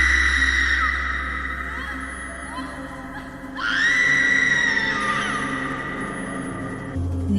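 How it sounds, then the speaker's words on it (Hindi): A woman lets out a drawn-out, shrill scream in a haunted mansion horror scene, a piercing wavering cry that swells again midway over a low eerie drone, loud and sustained for several seconds. "कविता जोर से चीखी।"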